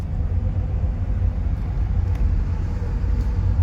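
Nighttime highway traffic beside roadworks, with vehicles diverted onto a service lane because the road ahead is closed, gives a loud, steady, continuous engine and tyre rumble without voices.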